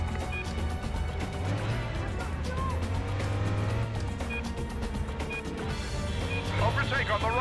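Race cars roar and overtake one another in the PS2 stunt-driving game Stuntman, with steady engine drone, a rising pitch sweep and faint tire squeal, under continuous game music and effects.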